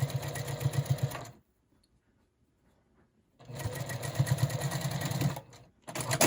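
A sewing machine stitches quilt block seams in two loud, steady bursts of rapid chatter, separated by a couple of seconds of near silence while the fabric is turned, then running again to the end.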